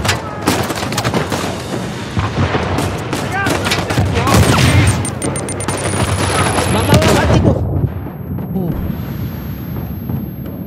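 Heavy gunfire and explosions in Uncharted 4: Thief's End Remastered, dense rapid shots and booms with a voice exclaiming over them, easing into quieter ambience near the end.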